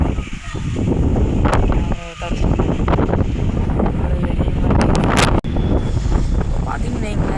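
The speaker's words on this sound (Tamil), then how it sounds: "காற்று எப்படி இருக்குதுன்னு பாருங்க" Strong wind gusts through a village during rain, a loud, continuous roar buffeting the microphone, with brief dips and a voice speaking over parts of it.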